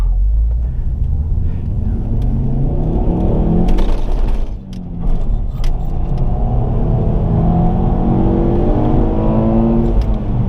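A 2007 Ford Focus ST engine and exhaust drone steadily while driving, a loud, continuous rumble with rising tones as it accelerates, and a brief dip in the middle.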